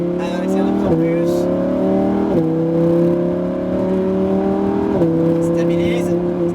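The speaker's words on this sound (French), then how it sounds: "Allez, accélère de plus en plus." Lamborghini Huracan accelerating hard on the Castellet race track, heard from inside, its engine pitch climbing steadily and dropping briefly at each of three upshifts, with an instructor talking over it.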